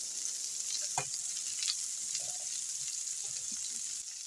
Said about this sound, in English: I'm going to flip some of these because I don't want them burning